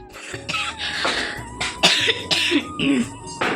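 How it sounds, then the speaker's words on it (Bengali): A woman coughs repeatedly in a home kitchen, a series of harsh close bursts with brief pauses between them. "মাঝে মাঝে খুব কাশিও হয়েছে কাশিও পাচ্ছে"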